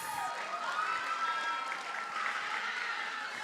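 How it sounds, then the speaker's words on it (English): Graduation audience at a secondary school applauding, a continuous wash of clapping heard from a distance with tonal hum or a faint siren-like tone running underneath. "Let us keep the applause coming for Mr. Dimitri Archibald."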